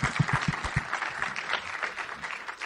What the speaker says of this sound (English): Yes, clap it up.